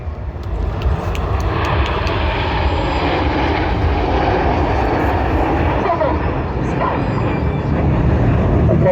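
Red Arrows display jets flying the Apollo formation, shaped like the lunar landing craft, give a loud, steady broadband roar that holds throughout, with a voice talking over it.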